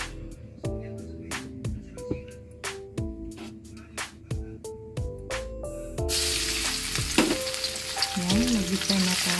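Garlic sautéing in a pan for a danggit fish sarciado, opening with repeated percussive knocks before a loud, bright sizzle swells in and holds steady.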